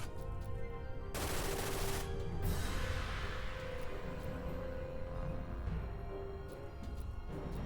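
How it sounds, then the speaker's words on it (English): Enemy soldiers open fire in Dirge of Cerberus, a dense barrage of overlapping gunshots and automatic bursts that runs loud and continuous from start to end. "Stop shooting me. I said stop shooting me."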